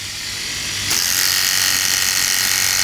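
A Philips Series 5000 shaver's pop-out detail trimmer buzzes close up. The steady drilling-like electric whine rises slightly in loudness partway through and then holds.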